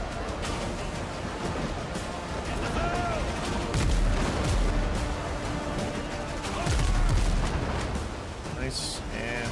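Ship guns firing in the pirate video game Windrose, a series of heavy booming cannon blasts with rolling rumble and splashes, spaced a few seconds apart.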